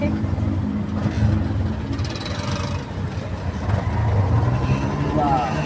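Street traffic crawls bumper to bumper, with the low rumble of truck, bus and car engines idling and creeping nearby, and people talking over the steady din.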